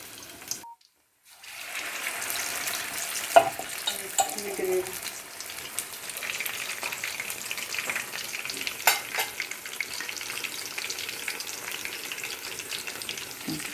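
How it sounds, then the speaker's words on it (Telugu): Chicken leg pieces dropping into hot oil for deep frying, bursting into a loud, even sizzle after a brief pause, with occasional clinks of a utensil, close and steady, with no one speaking. "ఇప్పుడు ఈ లెగ్ పీసెస్ని ఇందులో వేయాలి."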